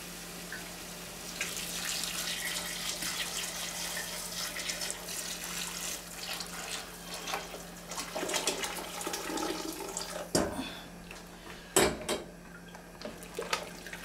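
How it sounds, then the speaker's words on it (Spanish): Liquid pours into a home cooking pot of cabbage soup with a steady, splashy trickle, followed near the end by a few sharp clunks and splashes close by. "Entonces aquí vamos a agregarle el líquido."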